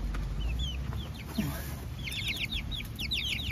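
Chickens in a village yard cluck softly and steadily with several short calls overlapping, set against outdoor ambience and high birdsong, with no talking.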